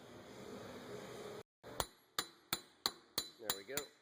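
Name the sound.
hammer tapping on axle to free Subaru hub assembly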